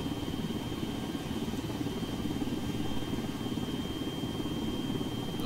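A helicopter engine runs on the ground before takeoff, a steady, even low rumbling drone with a faint high whine, unchanging throughout and fairly close.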